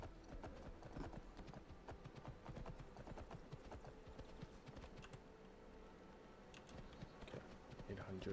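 Hooves of a horse in the video game Skyrim clip-clop in a steady, quick rhythm throughout, close and moderately loud, with faint clicking underneath.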